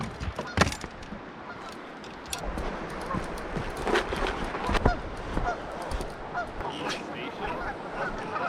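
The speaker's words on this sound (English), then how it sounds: "There's a geese on the bank of it." Geese honking repeatedly on a river bank at a campsite, scattered calls near and far over outdoor background noise.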